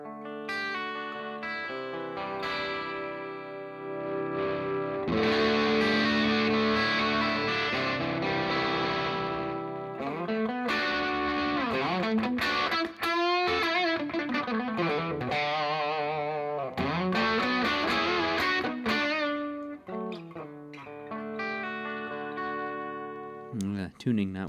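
Electric guitar played through a modified Rat distortion pedal with the distortion eased back, the high end filtered and the volume rolled off, giving sustained thick chords and bending, singing notes with a resonant, filtered edge.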